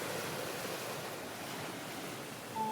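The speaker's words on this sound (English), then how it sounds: "the faint sound of waves in the distance" A steady, soft wash of surf rolling in the distance, broad and hissing with no distinct breaks, faint and continuous.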